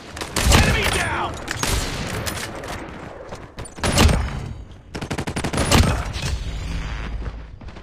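Sniper rifle shots and kill sound effects from a video game, several sharp loud blasts with booming tails at irregular intervals, plus rapid bursts of gunfire and dense layered combat noise between them.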